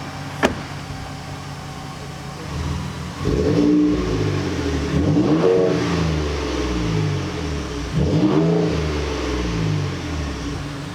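A 2019 Ford Raptor fitted with an AWE exhaust revs up twice, each throttle blip rising in pitch over a steady, loud idle rumble, heard close with no talking.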